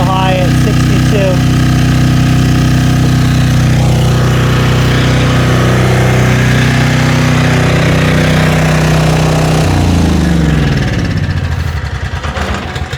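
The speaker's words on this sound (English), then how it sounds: "This engine is running extremely well." A storm responder generator engine runs loud and steady under load, humming smoothly throughout before winding down and sputtering near the end.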